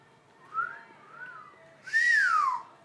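A person whistles a few short gliding notes nearby, two soft rising-and-falling tones followed by a louder, longer descending whistle, with no one speaking.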